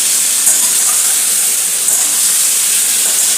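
Loud, steady broadband sizzle as a little water hits a vegetable egg curry being cooked down in a pan, hissing evenly throughout with no voices.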